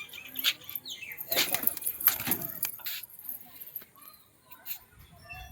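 A male pigeon's wings flap in quick bursts at a loft, loud close flurries around the middle amid some jangly rattling, with a person talking in the background.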